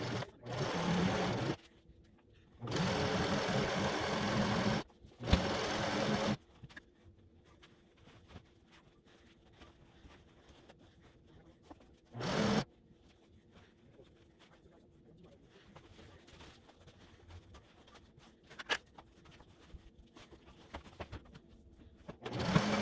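A sewing machine stitching robe fabric runs in several loud, steady bursts of rapid whirring, the first few close together and one brief run later, separated by quiet handling noises.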